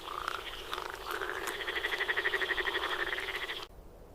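A frog croaks in a Camargue salt marsh, a loud, close, rapidly pulsing call that builds steadily and then stops abruptly, leaving quiet marsh air.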